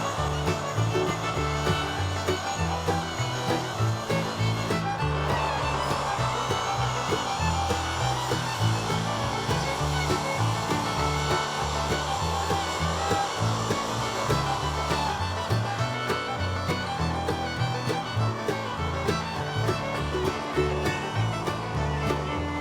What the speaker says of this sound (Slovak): opracovať uhlovou brúskou, ľudovo nazývanou flexa, s lamelovým kotúčom